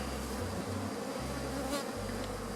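Honeybees buzzing on hive frames while an orphaned hive is shaken out to strengthen a swarm. A steady, dense, close hum with low droning tones that shift slightly in pitch, with no talking.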